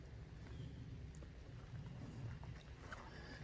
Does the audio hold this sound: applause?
no